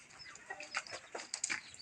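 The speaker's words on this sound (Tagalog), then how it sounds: "So dito naman po yung mga manok na tinagaw, malalaki na po." Chickens clucking in a farmyard, with several short soft clucks and calls at close range against a quiet background.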